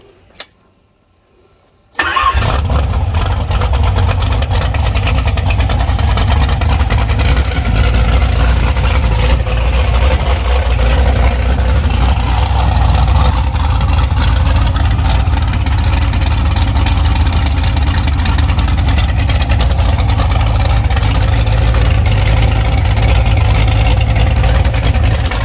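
A freshly built 350 engine on break-in fires after a brief silence and settles into a steady, loud, close idle that runs on evenly and alone for over twenty seconds.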